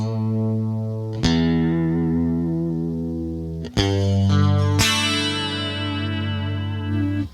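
Clean electric guitar chords through a Rockman XPR ring out with lush chorus and echo, several sustained strums that hang and shimmer, played alone without voices.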